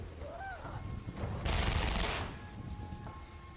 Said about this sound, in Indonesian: Mobil meledak dan satu orang menjadi korban.